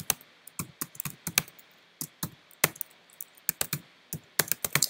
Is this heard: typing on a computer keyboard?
yes